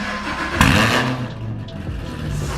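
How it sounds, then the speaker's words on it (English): A Camaro ZL1 fitted with Speed Engineering 2-inch headers and a 3-inch exhaust cranks and fires with a sharp loud pop, then settles into a rough, rumbling idle close by. "So I guess what we're going to do next is start the car up"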